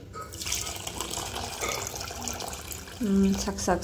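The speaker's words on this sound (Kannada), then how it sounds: "ಇದಕ್ಕೆ ಸ್ವಲ್ಪ ನೀರು ಹಾಕ್ತೀನಿ" Water trickles and splashes into a bowl of semolina, a steady pouring sound with faint clinks near the end, close by.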